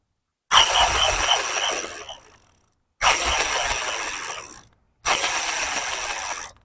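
Bicycle thread-type freewheel sprocket (Ragusa R 100), freshly oiled with chain lube, spun by hand three times, each spin giving a loud, close, rapid ratchet clicking that slows and fades before the next spin.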